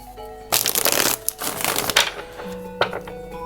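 Tarot cards are shuffled before a reading, giving bursts of riffling, flapping card noise that are loud and close, then softer handling at the end, with no speech.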